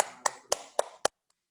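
Four evenly spaced claps ring out sharply, close and fairly loud, in a classroom teaching practice session, followed by a couple of faint taps and then quiet.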